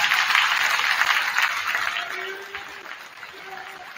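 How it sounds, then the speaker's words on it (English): A gym crowd at a girls' high school basketball senior night applauds the senior players and their families, a broad wash of clapping that gradually tapers, with faint voices and a short tone sounding beneath. "please stand and join us in a round of applause for our girls, senior basketball players, and their families"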